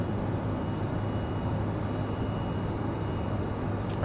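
Embraer E175 jet engines in the Prepar3D flight simulator, a steady broadband roar with a low droning hum running unbroken throughout, fairly loud and with no voices.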